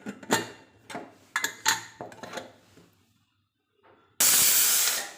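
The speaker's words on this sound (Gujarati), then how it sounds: "કુકરનું ઢાંકણ બંધ કરી અને એને 5 વિસલ થવા દઈશું" A pressure cooker holding dal with water, turmeric and salt gives a few sharp metallic clanks, then a pause, then a loud burst of whistling steam that lasts about a second at the end.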